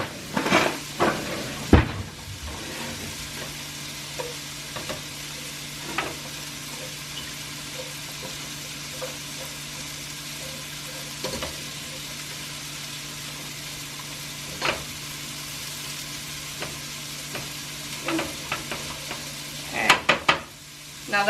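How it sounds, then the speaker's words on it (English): Cabbage frying in olive oil in a pan, stirred for a burst of clattering scrapes at the start and again near the end, with a steady sizzle and occasional utensil taps between. "I'm just going to go ahead and throw this cabbage on in here. And I am just going to stir that around a little bit."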